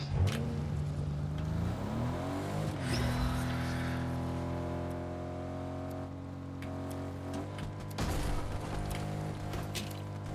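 A car drives in the Fortnite Zero Build video game, its engine humming and revving with rising and falling pitch, shifting tones and a few sharp game effects over a steady motor drone.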